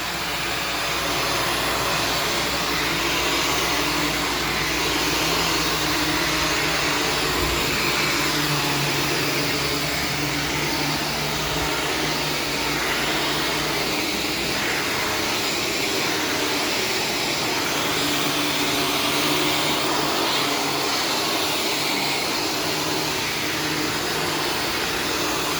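A Shark self-cleaning vacuum cleaner runs continuously at close range, a steady loud motor whine and airflow roar with slight shifts in pitch as it moves across the floor, no talking.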